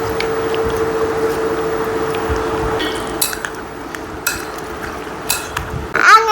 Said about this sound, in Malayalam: ഇനി നമുക്ക് നന്നായിട്ട് ഇളക്കി കൊടുക്കാം.